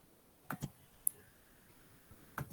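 A computer mouse clicks on a link in a quiet room, giving a few sharp, close double clicks separated by short pauses.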